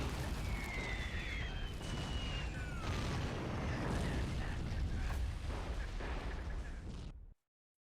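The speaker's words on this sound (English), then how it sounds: "Perfect artillery strikes." Artillery strikes blast across a WW1 trench battlefield in a real-time strategy game, a dense, rumbling barrage of explosions and booms rolling continuously for several seconds before cutting off abruptly.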